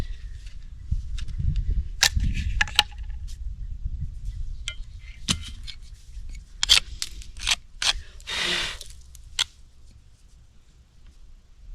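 A knife shaves tough fatwood in short scraping strokes, a series of sharp, close, irregular rasps and snaps, with one longer scrape near the end; no talking.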